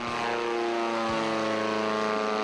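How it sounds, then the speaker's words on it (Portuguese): A gyrocopter, a cross between an airplane and a helicopter with an unpowered top rotor, flies with a steady, loud propeller-engine drone and sustained harmonic hum throughout, with no voices. "um girocóptero é uma mistura de avião com helicóptero"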